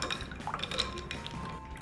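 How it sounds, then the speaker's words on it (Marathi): Raw mango sharbat is stirred with water, giving soft liquid swirls and small drips with light clinks of a spoon against the vessel, close and quiet. "आता हे छान असं मिक्स करून घ्यायचं"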